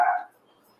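A pet dog gives a single short, fairly loud bark close by, which fades quickly into near silence.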